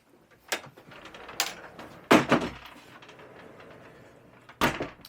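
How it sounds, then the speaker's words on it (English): Double pocket doors in a Country Coach Affinity motorhome slide along their tracks, a few distinct knocks and rolling rumbles with a heavier thud midway and a final clunk, close by with no talking. "These are double pocket doors."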